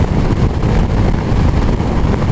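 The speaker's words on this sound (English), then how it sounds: "honestly it's so windy, I'm not going to turn my head" Strong, blustery wind roars steadily over the microphone on a Honda NT700 Deauville touring ride through the Scottish Highlands, a loud, constant broadband rush with no voices.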